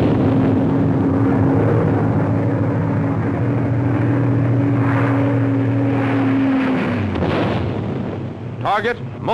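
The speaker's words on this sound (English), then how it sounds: "A flight of P-47 strafes targets on the highway." Roaring aircraft engines from a flight of WWII P-47 fighter planes strafing a highway, a sustained loud drone that fades and shifts near the end, with a brief burst of higher noise.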